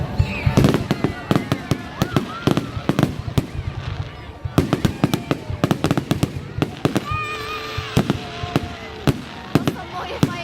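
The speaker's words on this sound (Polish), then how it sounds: "To są moje fajerwerki." A bonfire night fireworks display in a park in Sheffield, with a dense, continuous barrage of sharp cracks and booming bursts, some crackling, loud and fairly close, with faint crowd voices underneath.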